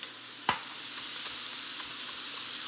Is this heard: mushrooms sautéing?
yes